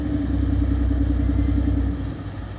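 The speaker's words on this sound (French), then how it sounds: "Vous entendez le moteur?" A boat's motor chugs steadily on a canal, a low, close rumble with a regular idling throb that holds loud and even before easing slightly near the end.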